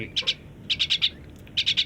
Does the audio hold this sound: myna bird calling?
yes